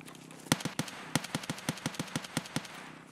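Rapid gunfire from Escape from Tarkov, a steady burst of about a dozen evenly spaced sharp shots in quick rhythm, moderately loud against a faint background hum, with no talk.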